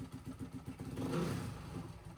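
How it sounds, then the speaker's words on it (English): A 2006 Honda CRF450R dirt bike engine runs lean on choke while warming up, a close, rough mid-pitched idle with uneven pulsing that swells briefly in the middle before settling back. "I was just trying to warm up the engine a little bit by pulling the choke up"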